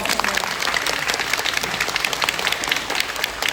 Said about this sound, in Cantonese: 不如我哋俾啲掌聲，我哋嘅義工朋友